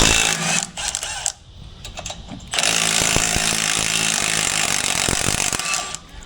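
A forestry mulcher's engine starts up and runs loud and steady, with a rough mechanical drone and rattling that carries on alone without talk.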